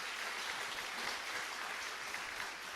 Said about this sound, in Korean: 우리 박수 한번 쳐주시면 좋을 것 같아요.